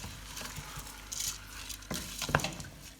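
Rice being stirred into cauliflower, sweet potato and spices for a biryani, soft scraping and grainy rustling in the pot with a couple of louder spoon clinks near the end, quiet and close, no voices.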